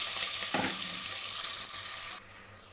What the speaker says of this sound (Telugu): కుక్కర్ పెట్టి ఆయిల్ వేసాను ఇందులో ఒక నాలుగు పెద్ద ఉల్లిపాయలు కట్ చేసి వేస్తున్నాను